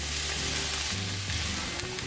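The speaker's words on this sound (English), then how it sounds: "next we're going to saute the mushrooms and the onions" Mushrooms and onions sauté in a pan for a sausage pesto pasta, giving a steady, close hiss of sizzling with faint stirring scrapes underneath, unbroken and without speech.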